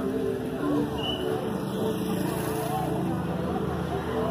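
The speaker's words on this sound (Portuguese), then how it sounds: "Olha aí, moto, rapaz." A motorcycle passes along a busy street in Trizidela do Vale, Brazil, its engine drone rising and fading at mid distance. Street noise and nearby chatter run underneath.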